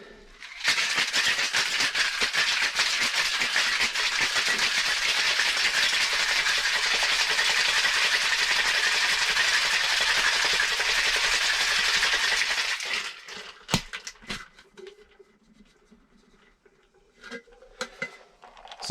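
A rum cocktail is mixed by hand with crushed ice, making a loud, continuous churning rattle for about twelve seconds. It stops abruptly and is followed by scattered clinks and knocks of glass and ice.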